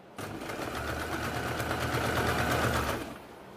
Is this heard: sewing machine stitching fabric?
yes